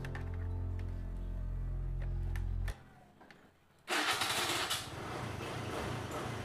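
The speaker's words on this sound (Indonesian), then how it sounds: "Dan untuk mesinnya, kita coba nyalain." A used moped-style motorcycle engine cranks and sputters into life, then settles into a steady, noisy idle after a brief lull.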